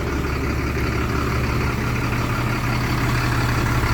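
A bus engine idles in a steady, low rumble, loud and close, with no noticeable change in pitch.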